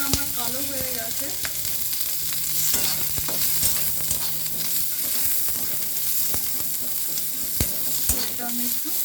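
Onion, garlic, green chilli, tomato and ginger fry in a wok blackened from earlier cooking. The sizzle is steady and close, broken by frequent sharp scrapes and taps of a stirring spatula.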